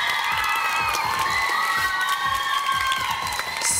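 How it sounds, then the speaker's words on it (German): Loud crowd cheering and applause at a children's talent contest, with high children's shouts and whistles riding over continuous clapping throughout. "Einen riesen Applaus bitte."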